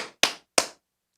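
One person claps three times in quick succession, sharp, close, dry claps with short gaps and silence after.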